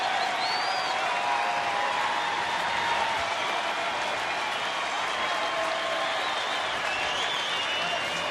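A crowd in a baseball stadium, the Angels at the Texas Rangers in August 2012, applauds and cheers in a steady, dense wash of clapping with scattered whistles, sustained for several seconds.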